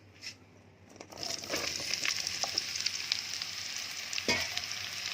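Raw jackfruit pieces frying in a hot pan with a steady, hissing sizzle. An early clatter as they go in, then a continuous crackle with a few stirring knocks, close up and without talk.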